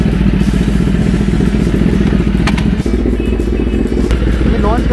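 A Kawasaki ZX-10R sport motorcycle launches with launch control engaged, its engine roaring loud and close with a steady rasping drone and a few sharp clicks, while a person talks over it.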